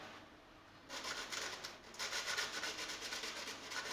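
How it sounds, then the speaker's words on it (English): Sandpaper rubs steadily over the painted metal of a homemade cookie tin ukulele, a close, continuous scratchy back-and-forth abrasion that starts abruptly after a brief quiet moment and carries on with a regular stroking rhythm. "Let's try a little bit of sandpaper on there."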